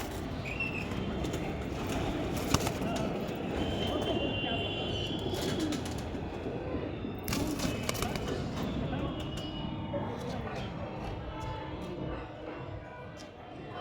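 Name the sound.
pigeons cooing in a loft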